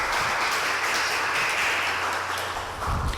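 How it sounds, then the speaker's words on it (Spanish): An audience at a conference on smart buildings applauds an engineer being introduced, a dense, continuous roar of clapping that stays loud throughout and eases slightly near the end. "Recibamos con un fuerte aplauso al ingeniero"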